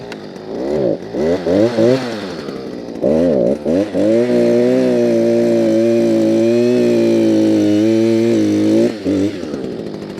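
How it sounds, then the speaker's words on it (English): A gas-powered earth drill sputters in short bursts, then holds a steady loud buzzing roar for several seconds while digging a coyote trap hole, before cutting back, close by. "I'd grab the big gas drill here"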